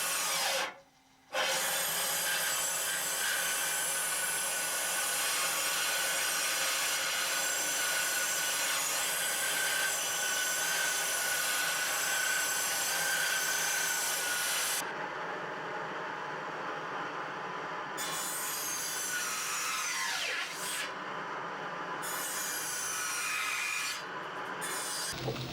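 Steady, continuous rasping of a saw cutting through wood, close and loud, with brief pauses near the start and end.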